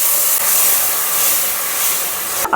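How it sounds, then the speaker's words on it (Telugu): Ginger paste frying in hot oil for an okra masala gravy gives a steady, close sizzling hiss that holds evenly throughout, with no voices. "ఒక స్పూను అల్లం పేస్ట్ కొంచెం పచ్చివాసన పోయే వరకు ఇలా వేపుకోవాలి"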